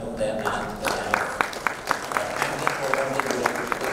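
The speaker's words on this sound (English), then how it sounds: "a loud kind of applaud, let's welcome them" An audience at a panel discussion on OTT platforms at the Promax Launch event applauds to welcome the panelists, a dense wash of clapping with sharper individual claps standing out, fairly loud and sustained.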